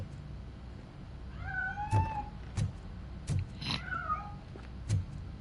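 In the RoboCop Rogue City game, a cat hidden inside a piano meows twice, then lets out a longer wavering cry, with several sharp knocks and thumps from the instrument in between.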